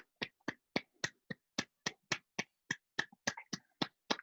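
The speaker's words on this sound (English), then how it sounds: "Single clap." A lone person claps by hand during an online religious gathering, about fifteen sharp, close claps in a steady, even rhythm with no voices.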